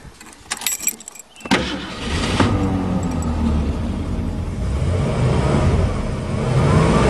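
After some clicks and rattles, the engine of a 1935 Mercedes replica with its original carburetor fires up and runs smoothly, a close, steady rumbling idle that swells slightly toward the end.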